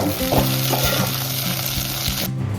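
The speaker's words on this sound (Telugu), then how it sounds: "మసాలాలు గోలిన తర్వాత ఉల్లిగడ్డ, పచ్చిమిరపకాయలు అయితే వేసుకోవాలి, పుదీనా వేసుకోవాలి, కలుపుకోవాలి" Bagara masala, onions, green chillies and mint frying and being stirred in hot oil, a loud steady sizzle with scraping stirs, alone until it drops away near the end.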